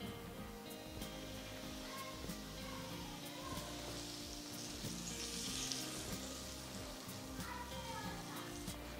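Two spoons of hot oil are poured into flour for jaggery kapnya dough, giving a soft, steady sizzle and crackle that stays level throughout, with no voices.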